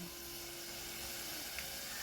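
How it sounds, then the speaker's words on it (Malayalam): Mango pieces for an oil mango pickle fry in hot oil, giving a steady, dense sizzle with a soft crackle and one faint clink near the end, no voices. "അങ്ങനെ വറുത്ത് കോരി എടുക്കുക."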